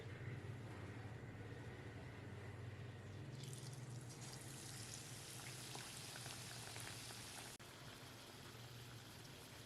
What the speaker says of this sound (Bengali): ব্যাটার মেশানো হয়ে গেছে এবার দিয়ে দিচ্ছি তেলে